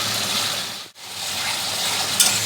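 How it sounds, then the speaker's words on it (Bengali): Spice paste sizzles in a pan while being stirred for a vegetarian kochu curry made without onion or garlic, giving a soft, steady frying hiss with a brief dip in the middle. "ঝোলটা এখন মশলাটা কষাই নেই"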